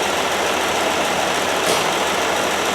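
A 1969 Land Rover Series 2a six-cylinder engine idles steadily close by, a loud, even running drone with no talk over it.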